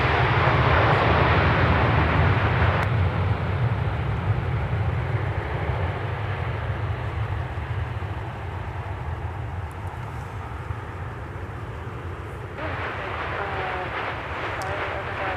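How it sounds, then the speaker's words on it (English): A Delta Boeing 737-900ER arriving at Minneapolis–St. Paul Airport roars with a heavy, low jet rumble that is loud at first and gradually eases into a steadier drone, while someone talks over it. "Arriving from SeaTac, Seattle Tacoma International, Delta 872 with a 737-900 ER."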